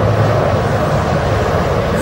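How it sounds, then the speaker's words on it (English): Helicopters carrying the South African flag pass over a state funeral. A loud, continuous engine roar fills the whole clip with no break. "now helicopters with the South African flag"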